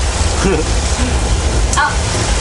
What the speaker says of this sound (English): that's how we create rain for movies and TV shows